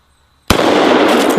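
A double-barrel 1911 pistol loaded with two 230-grain bullets fires once after a moment of near silence, giving a single sharp, loud blast that rings and decays over the next second.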